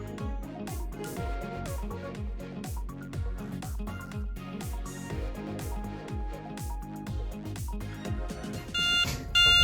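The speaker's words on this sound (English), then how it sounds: "We have the freezer alarm" A freezer sensor alarm sounds, a steady, rhythmic electronic tone that repeats continuously in a looping pattern without pause and swells slightly at the end.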